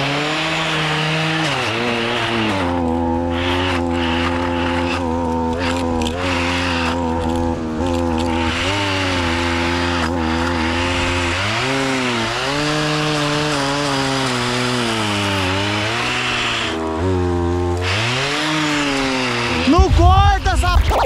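Chainsaw running steadily on a farm while cutting small trees and a stump, its engine droning loud and continuous with shifting pitch as it bites through wood, ending in a brief rough burst.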